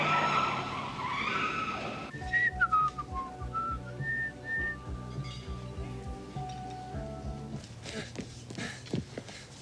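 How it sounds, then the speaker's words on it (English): Tires squeal in a skid as a car is driven in a 1987 film scene: a run of high, wavering squeals over the engine's rumble, then rougher scraping noise toward the end. "I am driving this car."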